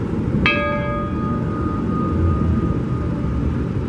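A single metallic locomotive bell strike rings out and hangs in a long tone over a loud, rumbling background of machinery noise, at the LA County Fair.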